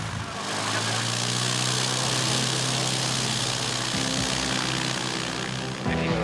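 Light aircraft propeller engine running steadily and loud throughout, a constant droning hum with a broad whooshing airscrew wash, no voices over it.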